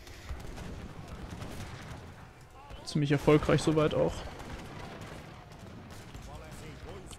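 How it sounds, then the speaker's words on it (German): Cannon and gunfire volleys in the strategy game Age of Empires 3: Definitive Edition, a burst of rapid booming shots lasting about a second, heard under someone talking in German. "Die Kanonen schieße ich gerade mit meinen Goons weg."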